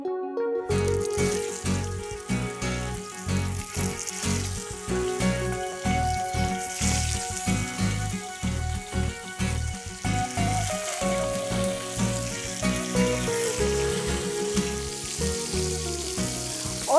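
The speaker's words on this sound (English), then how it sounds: "Now the coconut oil is heated up. Heated up. Now we have to shallow fry these." Food shallow frying in heated coconut oil, a steady dense sizzle and crackle that runs on without a break, close and fairly loud, with a few faint clinks and stirring sounds mixed in.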